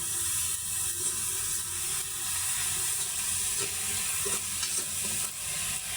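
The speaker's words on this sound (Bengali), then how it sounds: "আর একটু রোস্টের জন্য একটু পেঁয়াজ বেরেস্তা করে দিচ্ছি।" Onions fry in hot oil while being browned, giving a steady, close, continuous sizzle with a few faint scraping stirs and no voices.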